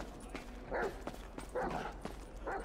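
Chop the dog barks in the video game GTA V, three separate woofs spaced across a couple of seconds, moderately close and fairly soft.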